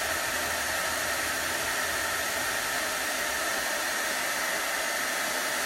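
A heat gun roars with a steady, loud, continuous blowing hiss as it melts embossing powder, unbroken from start to finish with no talk.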